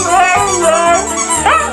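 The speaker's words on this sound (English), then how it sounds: "Number 5, the Siberian Husky. Drama, howling, escape artist." A Siberian Husky gives drawn-out, wavering howls mixed with yips and short barks, loud and close throughout, with the pitch sliding upward near the end.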